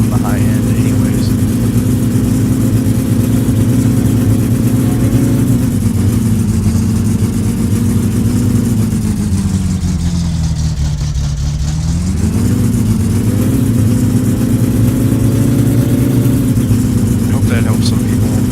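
A car engine in the My Summer Car video game revs hard and high, holding a loud steady whine, dipping briefly mid-way, then climbing back up, with a voice talking over it throughout.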